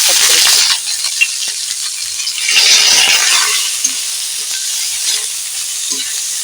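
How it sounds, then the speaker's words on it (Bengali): Pui leaves frying in hot oil in a wok, a loud close hissing sizzle with a few sharp pops, surging early and again midway before settling to a steady fry. "কোঁড়ায় তেল দিয়েছি পুলি পাতা খুব ফুটবে"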